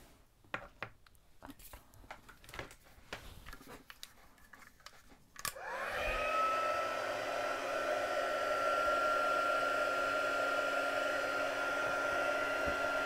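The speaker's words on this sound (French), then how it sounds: "Et maintenant, on va faire chauffer notre fer." An embossing heat tool switches on and blows a steady loud whirring hum, warming powder on stamped paper, after a stretch of faint tapping and handling noises.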